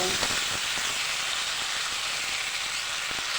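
Whole cumin, ginger and coriander spices frying in oil, giving a steady close hiss and sizzle that holds evenly throughout with no talk over it.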